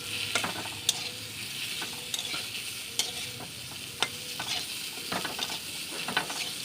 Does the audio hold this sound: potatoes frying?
yes